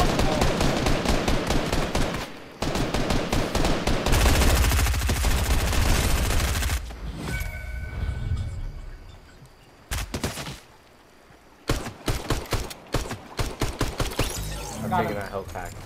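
Rapid automatic gunfire from a Fortnite match, loud bursts of rattling shots in the first seven seconds, then sparser shots in short clusters, with players talking over the action.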